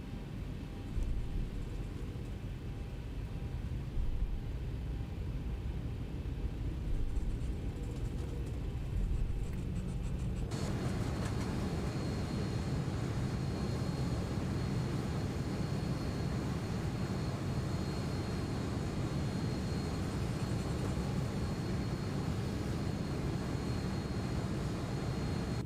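A Boeing 737-800 in the X-Plane 11 simulator holds a steady low engine rumble, then spools up around midway into a louder, broader roar that stays constant through the takeoff roll.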